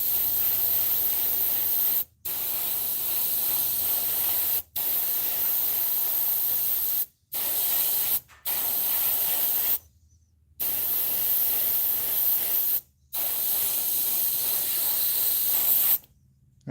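Spray can of red paint spraying outdoors, a loud close continuous hiss broken by several brief pauses into a long series of bursts, with no talk.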